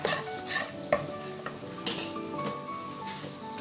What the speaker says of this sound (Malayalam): നമ്മുടെ വെളുത്തുള്ളിയൊക്കെ നന്നായിട്ട് വഴണ്ട് വന്നിട്ടുണ്ട്. ഇതിലേക്ക് എരിവനുസരിച്ചിട്ടുള്ള പച്ചമുളക് ചേർത്ത് കൊടുക്കാം.